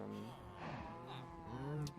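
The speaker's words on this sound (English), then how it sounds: "as you can see, we got some cows in here" Minecraft cows on a farm mooing in low, drawn-out calls that bend in pitch, fairly loud and close, overlapping one another.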